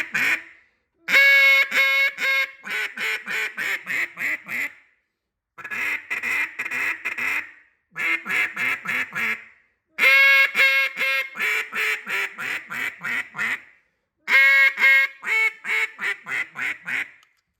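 An Iverson duck call is blown in repeated bursts of raspy quacks, each series descending and trailing off, loud and close with short pauses between.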